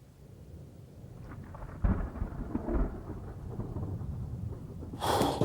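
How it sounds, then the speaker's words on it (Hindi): Heavy rain pours steadily while thunder cracks twice, one rumble midway and a louder, sharper clap near the end. "बारिश तो बहुत तेज हो रही है"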